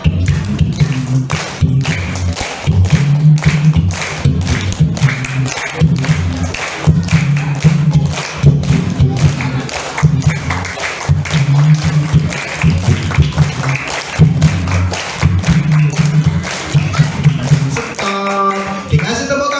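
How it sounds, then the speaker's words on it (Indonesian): An audience at a gathering of students and teachers claps in a steady rhythm, a dense run of hand claps with a low thumping beat underneath, close and loud. "Dikasih tepuk tangan yang meriah, ini dia Dito."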